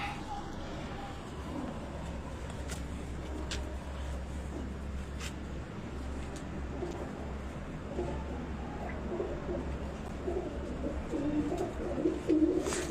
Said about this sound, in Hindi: उस्ताद हमीद के घर के चीने कबूतर